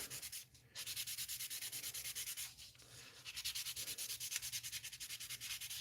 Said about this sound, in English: I'm just going to get this little scuffing around here.